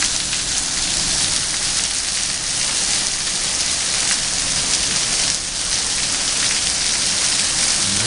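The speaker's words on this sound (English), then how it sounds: "and now hailstorm. It's not very big hail, looks like about the size of green peas or a little bit bigger" Pea- to marble-sized hail pours down in a hailstorm in the Dallas–Fort Worth area, a dense, steady hiss of pellets and heavy rain drumming continuously and loudly with no voices.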